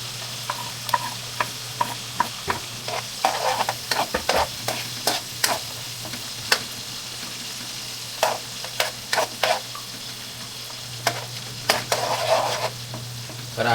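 Garlic and onion sautéing in melting butter with spices, a soft steady sizzle under repeated scrapes and clicks of a utensil stirring the pan, close by with no talk.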